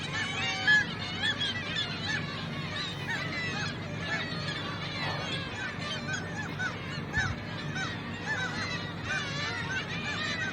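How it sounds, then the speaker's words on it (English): Seabirds calling repeatedly, with overlapping honking, squawking cries that carry on steadily through the whole stretch over a constant background hum, fairly loud and close. "These are another pair of seabirds."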